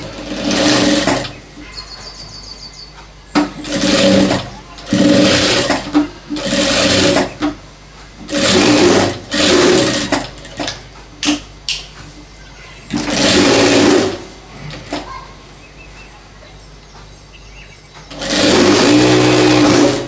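An electric sewing machine stitches gents' trousers in loud bursts of rapid mechanical whirring, each lasting one to two seconds and separated by short pauses, with a longer final run.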